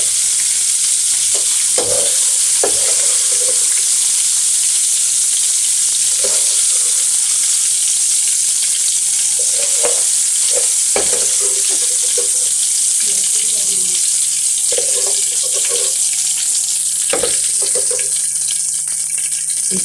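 Chicken frying in a pan for a Chinese biryani, a loud steady sizzle running throughout with occasional stirring scrapes and clinks close by.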